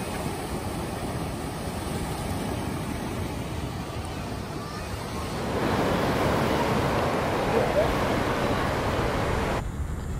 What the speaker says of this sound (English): I'm hanging out with the boys and just watching the waves rolling.